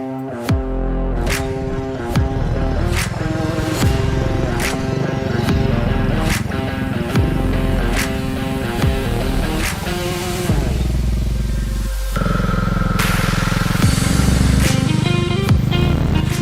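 A Pulsar motorcycle engine runs loud and close throughout a side-saddle stunt ride, droning steadily with a shift in pitch and a brief dip partway through before settling into a strong, even hum.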